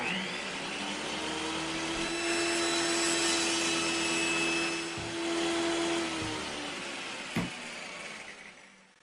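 A Ready2Rout CNC router cuts dados and grooves in wood in a workshop, giving a loud, steady high-pitched whine with a sustained grinding hum throughout, broken by a sharp click near the end.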